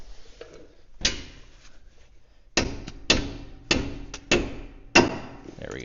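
Repeated dull knocks from a rubber hammer tapping on a vehicle's steering or suspension parts near the tie rod and ball joint, about six distinct blows spaced roughly half a second to a second apart, fairly close.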